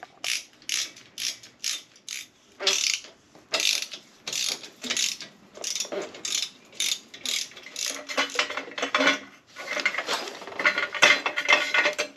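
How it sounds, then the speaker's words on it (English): Socket ratchet clicking in repeated short bursts while exhaust nuts come off a Harley-Davidson Fat Boy motorcycle, close and fairly loud, with steady rhythmic pawl ticks and brief pauses between strokes. "doesn't look like it will be too bad getting a socket on them"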